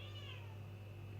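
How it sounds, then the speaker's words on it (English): A domestic cat meows loudly and persistently close by, a drawn-out, wavering cry over a steady low indoor hum. "The cat's making a racket."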